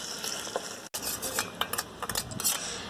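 A spoon scrapes and clinks against a pan as caramel is stirred with added water. Close metallic scraping and taps come in an uneven rhythm over a soft bubbling sizzle, with one brief dropout and no talk.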